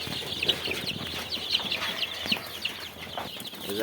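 Tiger breed chickens and chicks at a poultry shop clucking and cheeping continuously, with overlapping chirps and clucks at close range and no talk.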